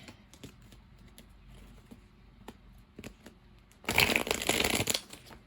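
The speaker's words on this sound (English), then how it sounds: "I'm going to shuffle these up really good." Tarot cards being shuffled, with light scattered taps and riffling followed by a louder, dense burst of card shuffling near the end, close and alone without speech.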